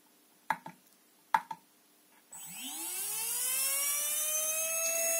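A cheap RC 3650 brushless motor spins up on a test bench after two pairs of sharp clicks, its whine rising smoothly in pitch and then holding as a loud, steady high-pitched whir.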